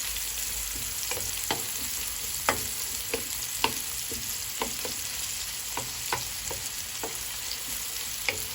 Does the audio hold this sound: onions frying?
yes